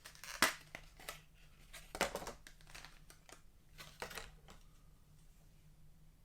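Stiff clamshell plastic packaging around a Hot Toys Spider-Punk suit figure crackles and clicks in a few sharp, close bursts, with quieter rustling and handling between them and no talking.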